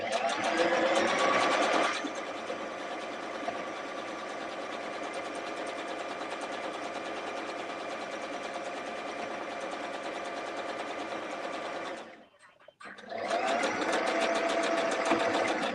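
Sewing machine stitching curtain fabric, running steadily and close for about twelve seconds with a brief stop for a backstitch before resuming, with a voice faintly present at moments.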